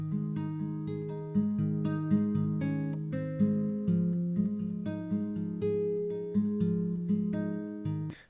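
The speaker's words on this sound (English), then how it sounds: "Somebody gave me this really beautiful nylon guitar. It sounded like this." A nylon-string acoustic guitar plays solo, close and clean, with plucked notes and soft chords ringing in an unhurried rhythm.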